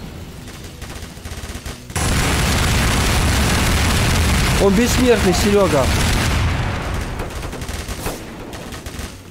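Rapid pistol gunfire in Garry's Mod bursts out after a quiet moment and rattles on for several seconds, mixed with chirpy effects, while someone speaks briefly in Russian.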